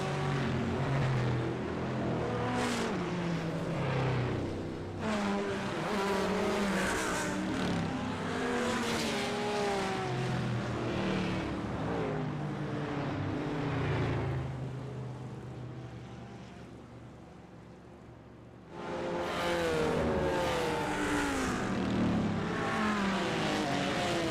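Race car engines, among them a Ford Mustang, roar in a multiclass sim racing game at Circuit de Villeneuve, loud and continuous with rising and falling revs, easing off briefly before surging back.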